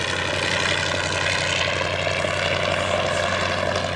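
A Fieseler Storch propeller aircraft flies at Old Warden, its piston engine giving a loud, steady drone with a constant buzzing tone throughout, and no voices.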